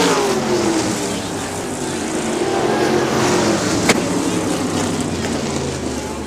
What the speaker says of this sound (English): Ken Mackey looping the 25 car.